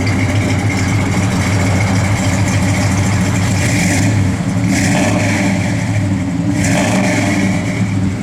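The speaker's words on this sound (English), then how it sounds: "Car's got a great sound to it" A 1969 Dodge Dart GT with Flowmaster exhaust idles with a deep, loud rumble close by, its burble swelling in a few short revs before settling back.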